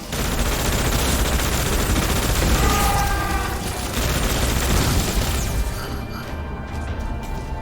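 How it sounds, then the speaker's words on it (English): Anti-tank rounds fire in rapid succession in a video game, making a dense run of loud, close blasts and booms. The barrage thins and softens toward the end. "Incoming raid. Firing AT rounds."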